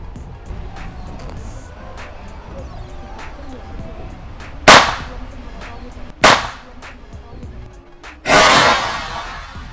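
Three sharp air rifle shots firing 4.5 mm pellets at a target, each a loud close crack standing out against quiet background noise, the last followed by a longer hissing tail.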